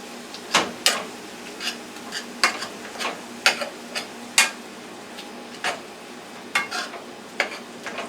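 A spoon stirs onion paste into ground beef in a frying pan, making a series of irregular scraping and clinking strokes against the pan over a soft background sizzle, with no talking.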